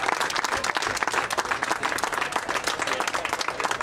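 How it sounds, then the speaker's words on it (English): A crowd at a 2008 Little League all-star baseball game in Davis breaks into sustained, dense clapping and applause, loud and even throughout. "I think we should give both these baseball teams a big round of applause for a great game."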